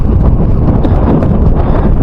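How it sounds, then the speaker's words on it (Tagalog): Strong wind blowing on a mountain road near Mt. Kilang during a motorcycle ride, a loud, continuous low roar buffeting the microphone throughout. "Ang lakas ng hangin."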